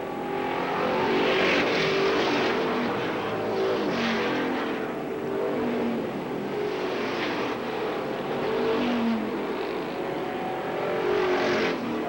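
Stock race cars roar around a track on the final lap, the engine drone swelling and fading in waves as the pack passes, heard from a distance without commentary.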